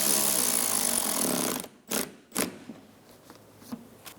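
Power tool snugging bolts on the rear bumper cover of a 2007-2012 Nissan Altima: a loud, steady buzzing whir that cuts off, followed by a few short, close ratchety bursts and small clicks.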